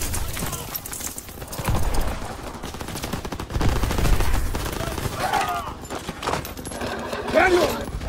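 Gunfire in Call of Duty WWII, with bursts of rifle and machine-gun shots at Aachen, Germany, under shouting soldiers and battle noise.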